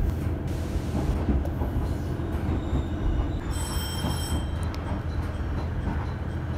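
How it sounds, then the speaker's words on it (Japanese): An Ou Main Line train rumbles steadily through a large rail terminal station in Odate, Akita Prefecture, with dense wheel and carriage noise throughout and brief high metallic wheel squeals midway, loud and near. "奥羽本線の列車、"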